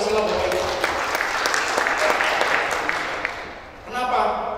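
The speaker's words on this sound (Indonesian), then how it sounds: "Tepuk tangan dulu dong ke Pancasila." An audience at an Indonesian talk on Pancasila and the national mental revolution movement breaks into sustained, fairly close clapping that fades slightly before a brief renewed burst, with a voice speaking over it.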